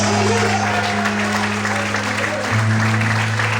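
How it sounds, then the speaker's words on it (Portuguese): A church congregation applauds in praise during a service, a dense, steady wash of clapping over a sustained low musical drone that shifts pitch partway through. "Vamos podem aplaudir e exaltar Deus com luz."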